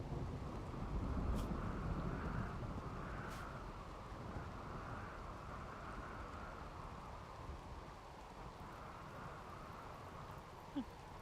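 Thunder from a lightning strike in RimWorld, a low rumbling roll with rain and wind noise, strongest early then slowly fading into a steady murmur, with no talk.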